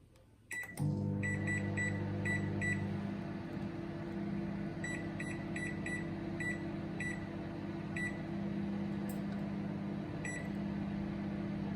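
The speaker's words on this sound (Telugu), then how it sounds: "చిన్న మైక్రోవేవ్లో పెట్టాను" A small microwave oven cooking four or five medium potatoes starts with a clunk, then hums at a steady low drone, with a short beep pattern repeating faintly over the motor.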